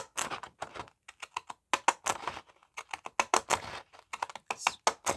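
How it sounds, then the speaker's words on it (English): Crisp snipping and crunching of decorative edge scissors through paper, a quick irregular run of sharp cuts, close up and fairly loud. "I'm going to use my Fun Cut Decorative Edge scissors. Cut around the edge of this one."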